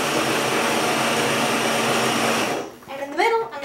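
Salmon being ground in a kitchen appliance for salmon burgers, a loud continuous whirring drone up close that cuts off after a few seconds, followed by a person speaking.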